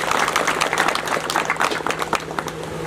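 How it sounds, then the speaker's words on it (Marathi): A small village gathering breaks into a round of applause, dense, steady clapping from a crowd lasting a few seconds, fairly close and loud. "त्यांच्यासाठी सर्वांनी एक साथ टाळ्या वाजवा"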